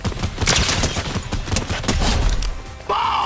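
Fortnite video game gunfire, a dense burst of rapid shots and impacts close up, followed by a brief lull and a sustained whining effect near the end.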